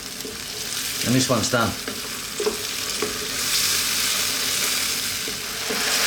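Chicken and bacon cream sauce sizzles in a pan while being stirred, a steady moderate bubbling hiss with spoon scrapes; someone speaks briefly near the start.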